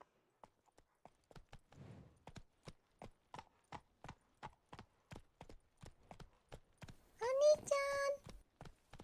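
Hooves of the horse Roach clip-clop in a video game, an even trotting rhythm of sharp distinct steps, moderately quiet, with a brief whinny-like vocal sound near the end.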